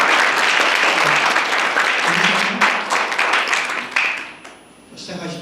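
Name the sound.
audience applause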